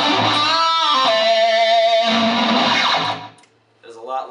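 Distorted electric guitar picks tight, palm-muted notes, fairly loud and close, ending in a brief pause before a few more quiet notes.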